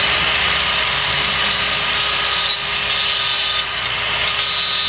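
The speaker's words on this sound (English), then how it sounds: "we're gonna go ahead and angle grind the control arm a bit" Angle grinder biting into a steel truck control arm, a loud continuous abrasive whine and hiss held steady throughout with no talking.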